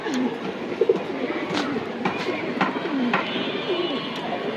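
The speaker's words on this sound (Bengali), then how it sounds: "খুব সুন্দর এটা নর কবুতর" A male pigeon at a pigeon-racing tournament coos in soft, repeated low calls, with a few sharper clicks and rustles scattered between them in a busy outdoor setting.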